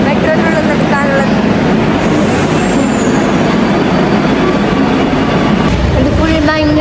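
A Kochi metro train running, a loud, continuous rumble and rattle heard from close by, with faint voices now and then.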